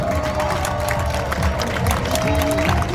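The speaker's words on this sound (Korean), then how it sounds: "다시 한번 큰 박수 부탁드립니다." Crowd applause and cheering at an election campaign launch rally for a Democratic Party mayoral candidate, a steady wash of clapping and crowd noise with a continuous hum of voices underneath.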